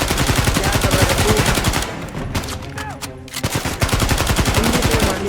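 Rapid automatic gunfire in Uncharted 4 rattles in dense, loud bursts, dips briefly mid-way with scattered single shots and faint in-game voices, then resumes at full intensity.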